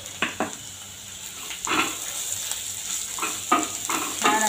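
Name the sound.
sautéing fried onion with goda masala, chili and coriander powder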